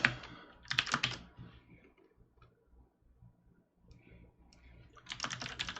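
Quiet computer-keyboard typing comes in two short bursts of rapid clicks at the start and end, separated by a near-silent pause, with no talking.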